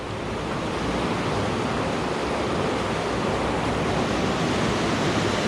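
Floodwater in a creek swollen by a flash flood to about 12 to 15 feet wide rushes past in a steady, loud, unbroken roar with no voices.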